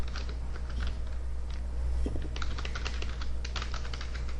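Rapid clicking of keys on a computer keyboard, irregular bursts of typing over a steady low hum, fairly close and moderately loud.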